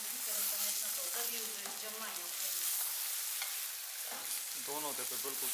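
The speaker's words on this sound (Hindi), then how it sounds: "अब हम इसमें पाई शामिल कर लेंगे और पाई को भी हम 1 मिनट तक भून" Paya (trotters) frying with onion paste in a pan for Pakistani-style bong paye, a steady close sizzle with stirring scrapes throughout, and a voice speaking over parts of it.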